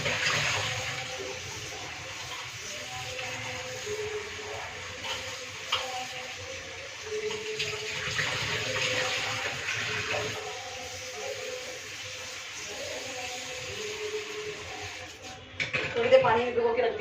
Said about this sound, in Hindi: तो पहले अच्छे से वॉश कर लूँ।